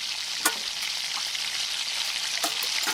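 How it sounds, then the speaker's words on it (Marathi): Onions sautéing slowly on low heat, a soft steady sizzle throughout with a couple of faint stirring scrapes, no voices. "मंद आचेवर आपण आता हे परतून घेणार आहोत."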